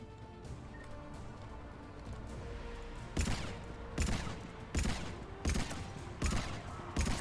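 Heavy ship-mounted guns fire in Mass Effect, several loud, evenly spaced booming bursts arriving after a few quiet seconds of low background hum, with no talking over them.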